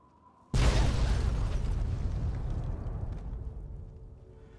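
A single sharp, loud sniper rifle shot in the Fallout game, with a long rumbling tail that slowly fades over several seconds; no voices.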